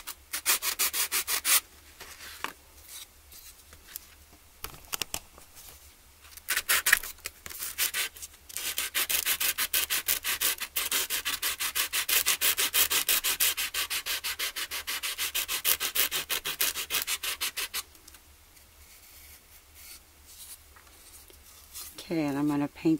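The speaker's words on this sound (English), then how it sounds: "I got out my sanding block, and I don't know if you can see the edges of that, but it's pretty nasty, so I'm just going to sand this smooth." A sanding block rubs back and forth across the rough wooden edges of a recycled guitar in rapid, rhythmic scratchy strokes. The strokes run steadily for much of the stretch, pause, then resume with a brief voice at the end.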